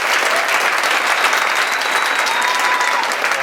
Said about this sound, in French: Mesdames et messieurs, applaudissez chaleureusement comme un duo